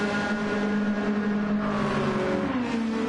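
A race car engine in Gran Turismo 7 drones steadily at high revs on the Watkins Glen circuit, with a whining, slightly shifting pitch and no voices over it.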